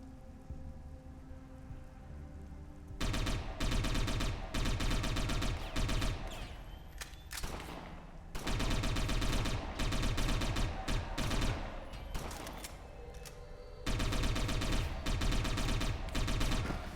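Uzi submachine gun fire in the game Satellite Reign, three loud rapid-fire bursts of crackling shots separated by brief quieter lulls.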